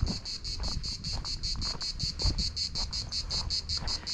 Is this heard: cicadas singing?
yes